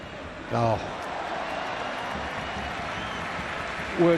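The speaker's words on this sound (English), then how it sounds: "A gasp and a round of applause for an away player." Home supporters at Real Betis gasp and applaud as Lionel Messi scores in a 2017-18 away football match, a broad, sustained stadium crowd roar with a commentator's voice briefly heard at start and end.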